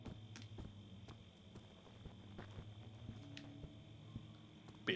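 Faint, scattered skittering movements and irregular footsteps sound through the dark ambience of the horror game Amnesia: The Dark Descent, quiet and somewhat distant, with no speech.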